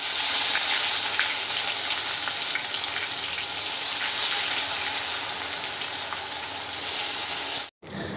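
Hot oil hisses and sizzles in a pan on a gas stove, a dense, steady frying crackle held close and loud, cutting out for a moment near the end.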